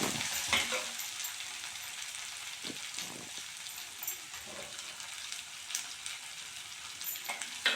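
Chopped beetroot sautés in a pan for a beetroot gravy, giving a continuous soft sizzle with occasional scrapes and clicks from stirring. It is heard close up, with no voices.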